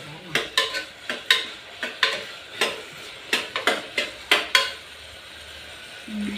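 Ghee frying in a pan while a spoon stirs, scraping and clinking against the metal in roughly a dozen sharp strokes over a soft, steady sizzle, with no talk.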